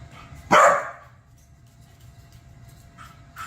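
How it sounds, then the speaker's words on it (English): A dog gives one loud, close bark early on, then quiet room tone follows with a few faint small sounds. "you don't need to be barking"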